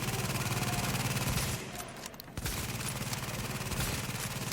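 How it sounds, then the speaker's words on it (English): Rapid automatic gunfire in the video game The Division, a dense stream of rattling shots in sustained bursts with a short pause midway, loud and close. "I want to try to take a shot at this guy over there."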